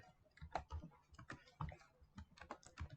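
Keys on a computer keyboard are tapped in quick, irregular bursts while an IP address is entered, close and crisp clicks with brief pauses between groups.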